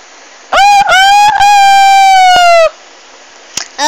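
A voice mimics a chicken with a long, loud, drawn-out crowing call held for about two seconds, followed by a short clipped sound near the end.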